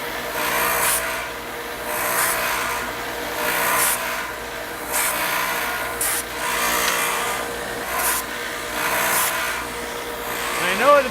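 Wood being sanded by hand on a theatre flat, a rhythmic back-and-forth rasp in regular strokes about every second or so, close by and fairly steady.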